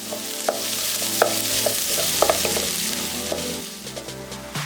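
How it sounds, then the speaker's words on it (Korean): Garlic, onion and carrot sizzle steadily in a hot pan over medium heat, with a spatula scraping and clacking against the metal every second or so as they are stirred. "중불에서 1분 정도 볶아준 후"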